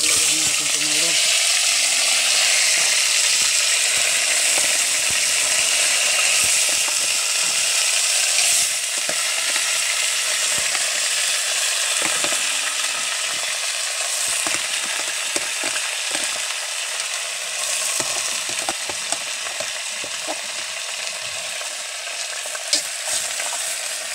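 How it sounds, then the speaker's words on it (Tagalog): Garlic and aromatics sautéing in a pan for a coconut-milk dish with turmeric, a continuous hiss of sizzling oil broken by frequent clinks and scrapes of stirring, close and steady. "para gisahin yung mga panakot natin. Unahin natin tong bawang"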